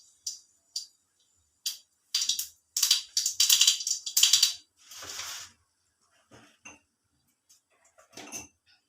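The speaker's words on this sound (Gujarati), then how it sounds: "આપણું તેલ આવી ગયું છે નહીં એવું ચેક કરવા માટે આપણે જરી રાઈ નાખીશું" Mustard seeds dropped into hot oil for a vegetable sambharo splutter and pop in scattered sharp crackles, with a dense cluster of bursts in the middle fading to a few sporadic pops.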